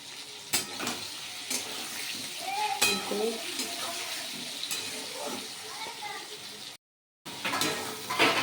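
A spice paste of ginger, cumin, chilli and turmeric fries and sizzles in a pan while being stirred, with soft scraping and clinks over a steady hiss and a brief dropout near the end.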